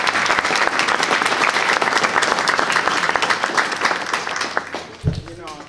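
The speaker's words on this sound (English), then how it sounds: "Let's everyone give him a round of applause." Loud applause from an audience at a lecture for the speaker, dense clapping that swells then thins out toward the end, where a voice briefly starts speaking.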